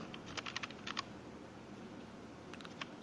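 Keys tapped on a computer keyboard while entering Hindi text into a Microsoft Excel spreadsheet, two quick bursts of close, crisp clicks separated by a quiet pause, faint and alone.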